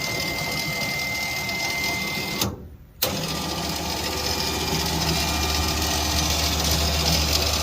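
An electric winch motor mounted in a truck bed runs with a loud, steady mechanical whine and hum, stops briefly, then starts again and keeps running.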